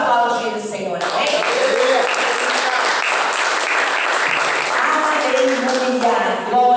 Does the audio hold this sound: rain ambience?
no